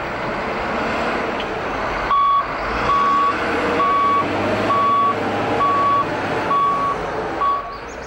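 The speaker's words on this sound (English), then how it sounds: "behind the roar of the machinery and the bustle of sand trucks" Sand trucks and heavy machinery work at a coastal quarry beside the sea road, a loud, steady engine roar carrying evenly spaced reversing beeps that repeat throughout.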